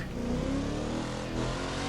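Car engine revving hard in The Crew 2 racing game, a loud continuous roar with rising engine pitch, close and with no talk over it.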